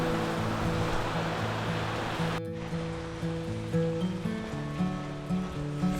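Steady rain in La Fortuna, Costa Rica, hisses as a continuous broadband wash near the Arenal Volcano area. Faint tonal music plays over it, and the sound is briefly interrupted partway through.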